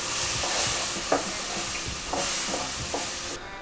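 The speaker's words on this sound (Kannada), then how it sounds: "ಈಗ ಮತ್ತೊಮ್ಮೆ ಎಲ್ಲನೂ ಮಿಕ್ಸ್ ಮಾಡ್ಕೋಬೇಕಾಗುತ್ತೆ." A spoon scrapes and churns through a bisi bele bath mixture with tomato, jaggery and tamarind water in a pan, a soft sizzle underneath and several distinct stirring scrapes close up, with no talking.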